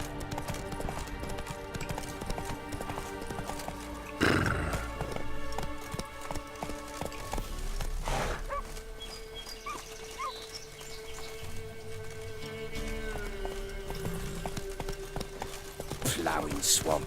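Roach, Geralt's horse in The Witcher 3: Wild Hunt, gallops at a steady clip-clopping rhythm across the game world. Ambient game sound and a few louder impacts sit under the hooves, with no talking.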